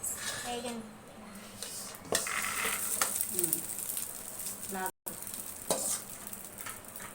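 Sesame seeds roast in a pan with a continuous crackling sizzle, broken by scraping stirs and ladle clinks. Voices talk over it.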